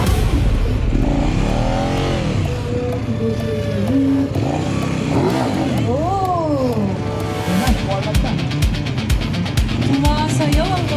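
Motorcycle engine at a riding skills competition, revving in repeated rising and falling bursts, close and loud, with people talking over it throughout.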